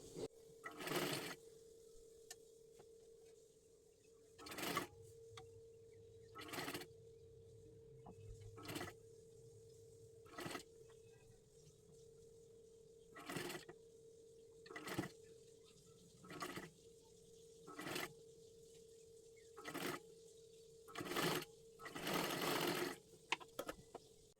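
A sewing machine runs double stitches on a fancy dress made from a Kathpadar saree, in about a dozen short whirring bursts separated by brief pauses, close and fairly quiet over a faint steady hum.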